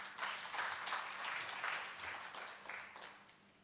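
Audience applause welcoming a speaker at a bank's full-year financial results announcement, a dense burst of many hands clapping at once that runs steadily throughout and tapers slightly at the end, with no talk over it.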